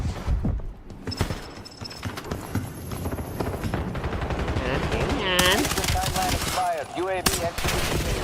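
Rapid handgun shots crack in a video game amid a busy mix of game effects, footsteps and chatter, with repeated gunfire bursts standing out over the din.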